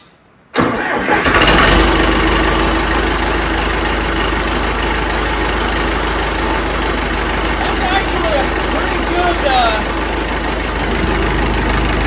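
After a moment of quiet, a 50-year-old John Deere 450 dozer fitted with a custom exhaust cranks, fires up and settles into a loud, steady diesel idle close by.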